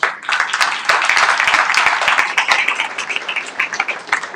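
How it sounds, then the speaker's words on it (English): Audience at a Web3 industry summit clapping for a speaker being introduced, a dense wash of many hands with sharp individual claps standing out, steady and fairly loud throughout. "let's give him a huge round of applause"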